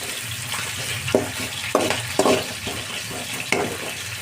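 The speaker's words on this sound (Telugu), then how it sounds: "కాస్త ఫ్రై చేసుకోవాలి ఆనియన్స్ని." Onions fry in oil in a pan with a steady sizzle, and a spatula scrapes through them in several distinct strokes. The sizzle is close and fairly loud, with no talking.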